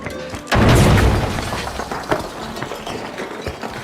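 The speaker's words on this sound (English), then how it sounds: "Sending a frag!" A frag grenade goes off in a video game with a single loud, close boom that rolls out into crumbling debris and a fading rumble, followed by a couple of softer thuds.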